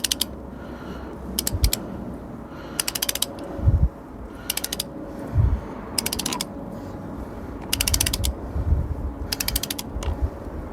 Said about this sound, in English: So 40 Newton meters, torque wrench